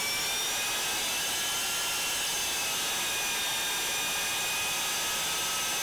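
An L-39 Albatros jet engine spools up from the cockpit, a loud, steady whine with rising high tonal lines over a dense rushing roar, alone with no talk.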